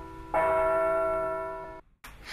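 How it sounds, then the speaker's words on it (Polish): A church bell rings once in a rural Polish village, its strong metallic strike followed by a long, steady ringing decay that fades, then cuts off abruptly. "Czas mierzono przemijaniem świąt i biciem kościelnego dzwonu."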